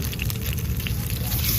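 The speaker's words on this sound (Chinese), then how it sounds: "加入老虎鱼哦，煎一下。" Tiger fish fry in a pan with a little cooking oil, fatty pork, ginger and garlic aboard a boat, giving a steady, close, loud sizzle and crackle.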